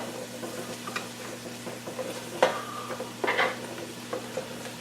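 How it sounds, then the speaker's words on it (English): Potatoes go into a pan of sizzling onion and pepper for potato soup and get stirred. A low, quiet sizzle is broken by two sharp clattering bursts of food and utensil hitting the pan, with no speech. "Now we start adding the potatoes."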